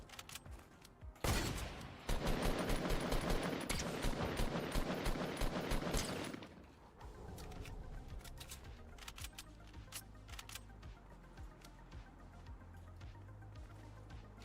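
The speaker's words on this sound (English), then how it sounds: "Who was he shooting at?" Rapid bursts of video game gunfire, dense and loud for several seconds before trailing off into quieter scattered shots over a low ambient hum.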